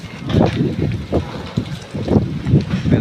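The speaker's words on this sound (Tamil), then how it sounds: "புயல் காற்று ஃபுல்லாக அடிக்குது." Strong storm wind buffets the microphone in loud, uneven gusts during a bicycle journey, a rough roaring rumble that rises and falls over a few seconds with no speech.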